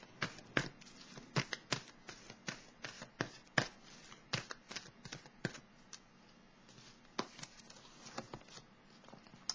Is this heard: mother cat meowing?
no